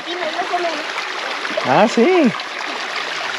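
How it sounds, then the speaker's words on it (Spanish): A stream flows steadily at hot springs in Santa Rita, Baja California Sur, a continuous watery trickle heard up close, with a person speaking briefly over it partway through. "Sí tiene agua el arroyo para bañarse."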